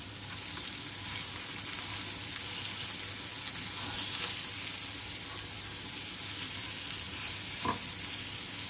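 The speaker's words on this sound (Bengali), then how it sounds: "একটা সাইড একটু ভাজা হয়েছে, তো আমি আদার সাইডটাও দিয়ে দিয়ে" Fish fries in a pan after being turned to cook the second side, while being prepared for a cabbage and fish bharta. A steady, even sizzle runs throughout, with a single sharp clink near the end.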